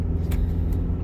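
A car driving along a road gives a steady, close engine rumble and road noise throughout, with no talking.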